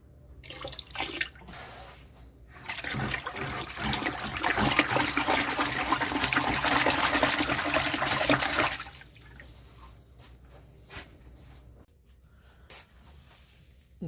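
Liquid nutrients and apple cider vinegar pour onto biochar in a continuous, rushing splash lasting several seconds, then give way to faint drips and trickles, heard close with no talking.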